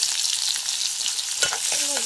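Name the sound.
panch phoron, onion and chilli frying in a pan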